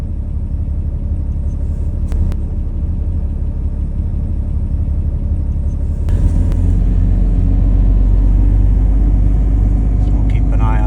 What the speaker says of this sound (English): Oh, she fired up.